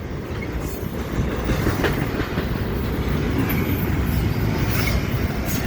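Train passing the Fosterville Road crossing near Fosterville, Tennessee, rumbles continuously and loudly up close, with rhythmic wheel clatter and faint metallic squeals throughout.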